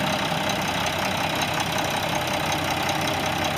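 A 2000 Mack RD688S truck with a 400 hp Mack E7 diesel engine idles steadily at close range, a constant loud rumble with an even, faintly knocking beat and no voices.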